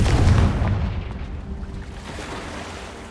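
Confringo spell explosions in the Hogwarts Legacy video game, a heavy, close booming blast at the start that rumbles and fades into a lingering low crackle, no talk.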